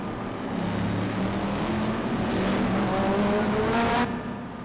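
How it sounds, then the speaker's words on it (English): A Group 5 race car accelerates hard through rising gears in RaceRoom at Macau, its engine note climbing steadily, loud and close, with a brief high whine near the end before it cuts. "But this car does accelerate really well"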